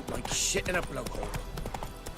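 Roach, the horse in The Witcher 3 video game, clip-clops at a run in quick hoofbeats beneath near-constant talk, with a brief bright burst early on.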